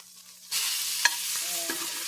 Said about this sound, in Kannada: ಈಗ ನಮ್ಮ ಮೀನು ಒಂದು ಸೈಡ್ ಚೆನ್ನಾಗಿ ಫ್ರೈ ಆಗಿದೆ.